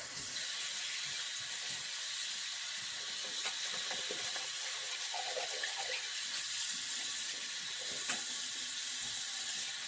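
A tap runs steadily into a sink while shaving soap is rinsed off, a continuous close hiss of flowing water with light clinks and handling sounds underneath.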